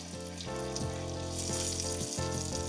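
Pork chop frying in very hot oil, a steady loud sizzle and crackle that holds throughout with no talk.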